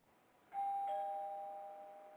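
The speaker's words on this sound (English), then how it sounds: "Who the hell is ringing the doorbell?" A two-tone electronic doorbell chime rings once, clear and fairly close, its tones ringing out and fading slowly over a quiet background.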